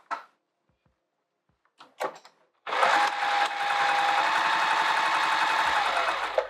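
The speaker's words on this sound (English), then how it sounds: "And now we're gonna sew the sides and across the bottom." Sewing machine stitching the sides and bottom of a fabric travel clutch, starting after a few faint clicks and running as a loud, steady, close whir for several seconds before stopping.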